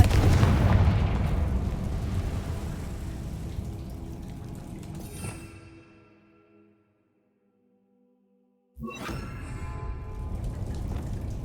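The Confringo spell explodes in the video game Hogwarts Legacy as a loud, rumbling blast with mechanical rattling that fades into near silence. A second burst of noise follows a few seconds later.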